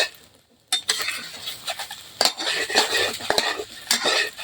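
Utensil scraping and stirring scrambled eggs in a pan with clattering metal contacts and a faint sizzle underneath, steady and close.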